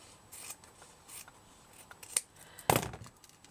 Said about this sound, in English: what I'm going to do is just snip this off